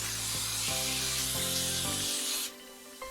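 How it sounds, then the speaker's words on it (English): Vegetable cooking spray hissing from a can onto parchment paper lining a baking pan, one steady loud burst of about two and a half seconds over a low background hum, then cutting off. "So I just go ahead and spray that parchment paper down."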